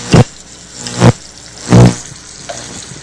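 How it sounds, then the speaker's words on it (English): Salisbury steak patties hit a hot pan one after another, giving three short, loud bursts of sizzle with quieter frying in between. "Get a little sizzle going here."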